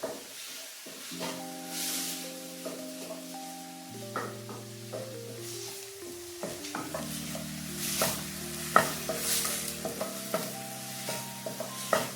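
Grated coconut fried in oil for a Kerala moru curry, with a steady sizzle and repeated scraping stirs against the pan, while tonal music plays over the cooking noise.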